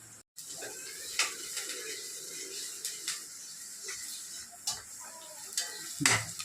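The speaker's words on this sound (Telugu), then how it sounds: "కరివేపాకు ఉల్లిపాయ పచ్చిమిరకాయ వేసాను" Curry leaves, onion and green chilies frying in oil for a mutton curry, giving a steady close sizzle with scattered crackles and occasional stirring clicks.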